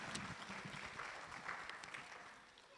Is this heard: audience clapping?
yes